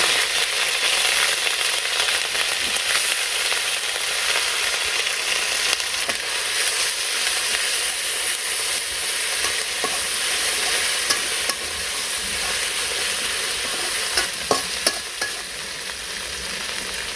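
Bay leaf, cardamom and cinnamon frying in hot oil for a Bengali prawn malai curry, giving a loud, dense and continuous sizzle with a few faint clicks toward the end.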